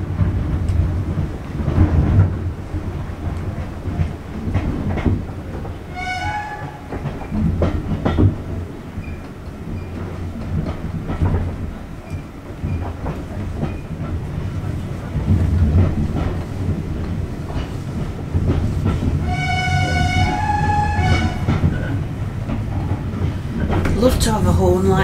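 Rumbling train rolling along the rails with an irregular clickety-clack and deep continuous rumble heard from on board, brief squeals in places, with people talking over it.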